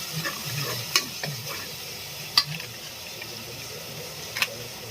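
Masala sizzles steadily in a pan while frying for egg dum biryani. A few sharp spoon clicks and scrapes stand out over the continuous hiss, with no talking.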